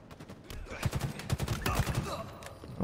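Video game gunfire, a rapid burst of overlapping shots and automatic fire, loud and close, with a voice talking over it.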